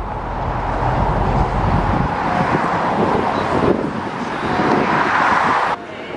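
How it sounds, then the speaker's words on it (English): Inside a car stuck in road traffic, a broad steady rumble of engine and road noise with wind buffeting the microphone, holding level before a sudden drop near the end. "We're stuck in traffic right now,"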